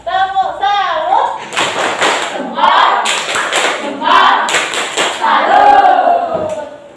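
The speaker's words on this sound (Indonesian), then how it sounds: "Tepuk salut." A group of children in a primary school class claps in quick patterned bursts, chanting along in rhythm, loud and close throughout.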